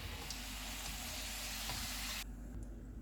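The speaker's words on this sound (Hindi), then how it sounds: "अब हम चूल्हे को कम कर देंगे और इनको फ्राई कर लेंगे" Chicken potato croquettes frying in hot oil in a pan, a steady close sizzle and crackle throughout that drops off suddenly near the end.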